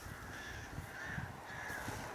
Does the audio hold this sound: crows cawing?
yes